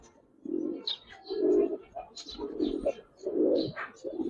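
Silver-coloured and army pigeons coo in deep, rolling bursts that come about once a second, close by, with a few higher chirps mixed in and no clear talk.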